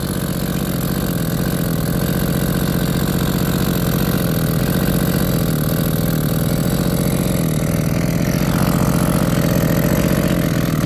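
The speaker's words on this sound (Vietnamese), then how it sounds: "các bạn có thể là thấy được cái tiếng nổ của máy nó rất là êm, rất êm trầm ấm" A Koshin 25cc Japanese water pump engine runs dry without water at low throttle, a steady, loud, smooth and deep idle that continues unbroken throughout, with no talking.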